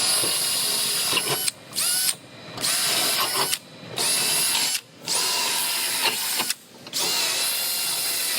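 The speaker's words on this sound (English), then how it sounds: "I'm gonna go ahead and drill all my holes where the blind rivets go." Power drill making holes for blind rivets in a BMW body panel, a series of sharp high-pitched whirring bursts, about six in quick succession, each separated by a short gap of silence, close and fairly loud.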